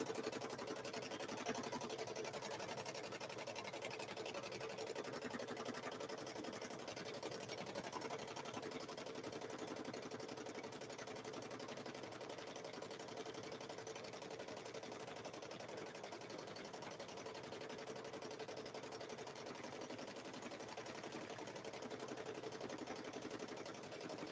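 A sewing machine stitching free-motion quilting on a Grinch-themed quilted handbag runs in a faint, continuous rapid whir with no pauses.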